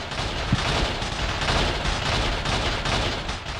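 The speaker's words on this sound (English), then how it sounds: "Yeah, it's the windows rattling." Windows rattle during a haunting in the video game Silent Hill 4, a dense, continuous clattering rumble that stays loud throughout with small sharp knocks.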